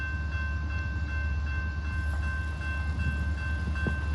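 A CSX freight train rolls past steadily in Plymouth, Michigan, with a constant low rumble and rhythmic wheel clicks at moderate distance, heard alone.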